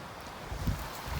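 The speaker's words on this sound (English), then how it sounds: "Just more windy today." Wind gusting across an elk archery hunting camp, a low steady rumble with a brief stronger buffet midway, no voices.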